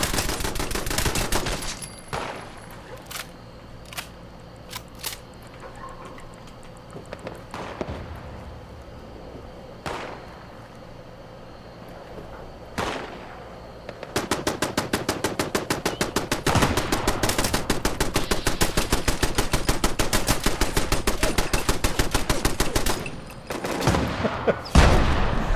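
Enclave turrets in a Fallout-style video game open up with scattered single shots, then a long sustained burst of rapid automatic gunfire from about the midpoint, loud and dense, tapering off near the end.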